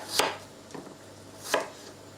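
Three sharp knife chops on a board while making mince pies, two loud strikes with a softer one between, spaced unevenly in an otherwise quiet room.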